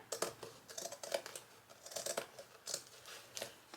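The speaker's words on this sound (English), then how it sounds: "So I'm just gonna go ahead and cut around the cardboard." Scissors snip around the edge of a cardboard piece in a Dollar Tree dragonfly DIY craft, giving a close, steady series of short crisp cuts with faint papery crinkling between them.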